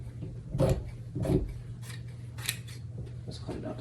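Scissors snip through fabric for boy's pants in a few slow, crisp cuts, close by, with a faint steady hum in the background.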